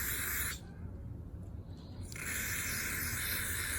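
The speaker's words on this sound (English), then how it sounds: "Once you spray a little bit of that cleaner" A steady hiss of aerosol throttle cleaner sprayed close by on a 2013 Chevy Equinox 2.4 Ecotec throttle body, pausing briefly in the middle before the spraying resumes.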